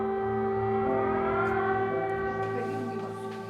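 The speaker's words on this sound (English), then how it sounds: "the wail of air raid sirens" An air raid siren wails steadily from a distance in wartime Ukraine, its sustained rising and falling tone filling the air with no voices.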